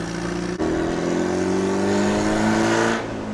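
A Meyers Manx beach buggy, a 1970s open-top cruiser, drones along at steady engine speed, its loud, raw hum holding level with one short dip early on before easing slightly at the end.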